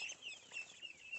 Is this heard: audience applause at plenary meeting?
no